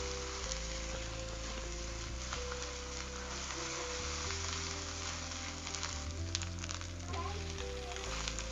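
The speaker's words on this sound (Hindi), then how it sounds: "टमाटर सॉस डाल के उसके साथ कीमा हम भूनेंगे" Minced lamb fries with tomato sauce in a pan, a quiet, steady sizzling hiss that runs evenly throughout, with faint occasional stirring.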